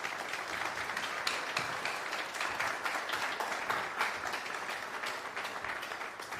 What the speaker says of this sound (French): Monsieur le ministre, sous vos applaudissements.